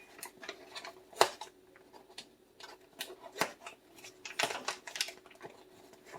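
Kitchen shears cut through lobster tail shells, making irregular close snips and crunchy clicks of varying loudness in a quiet room.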